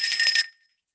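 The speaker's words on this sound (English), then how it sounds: "First, ring the bell." A small bell is struck once, a bright ringing tone that decays quickly and fades to silence within half a second, close and alone.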